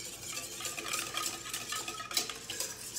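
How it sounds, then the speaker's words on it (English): A whisk stirring yeast, sugar and date syrup in a bowl gives quiet, steady rhythmic scraping and clinking against the sides, with faint taps and no talk. "you're just gonna whisk all of this together"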